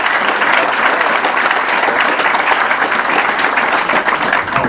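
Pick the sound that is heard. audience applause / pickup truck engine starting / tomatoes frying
audience applause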